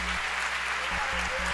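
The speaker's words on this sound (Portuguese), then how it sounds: "Você quer aplaudir?" A church congregation at a Sunday service breaks into a short burst of steady applause, over a low electrical hum.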